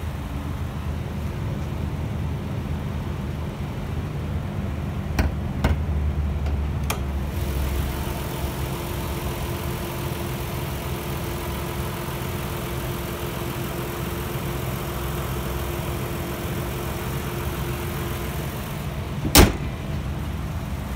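A 2014 Dodge Journey R/T with its 3.6-liter engine idles steadily with a low, even hum, interrupted by a few brief clicks and knocks and one sharp thump near the end.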